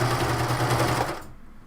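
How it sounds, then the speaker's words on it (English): A sewing machine runs steadily, stitching a 3/8 inch seam allowance on a top, giving a loud, even mechanical whirr that stops abruptly near the end and leaves near silence. "I'm sewing a 3/8 inch seam allowance."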